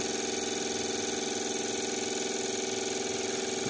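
Suzuki Grand Vitara engine held at about 1500 RPM during ECU immobilizer service, a steady, even mid-pitched hum running unchanged throughout, close with no talk.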